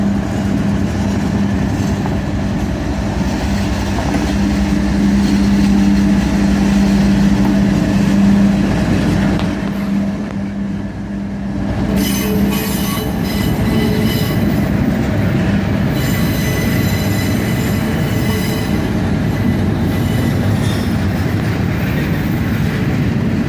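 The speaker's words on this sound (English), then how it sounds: "we were in Hamilton, Ohio to catch this intermodal coming around the curve" Intermodal freight train coming around a curve in Hamilton, Ohio, a loud, close continuous roll of wagons with drawn-out wheel squeal and rhythmic clacking, briefly dipping before the rumble resumes.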